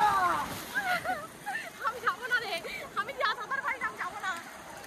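Sea waves wash in at Digha beach, a broad wash of surf under excited talk and shouting from people wading knee-deep in the water.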